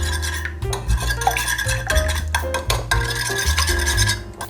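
Eggs, one of them only the yolk, beaten in a bowl for Korean jeon batter: a quick, rhythmic scraping and tapping of utensil against the bowl, close and continuous.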